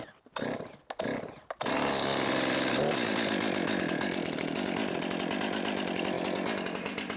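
A cold Stihl MS 261 chainsaw sputters through a few brief bursts, then catches and runs steadily, idling loud and close with a continuous engine drone to warm up.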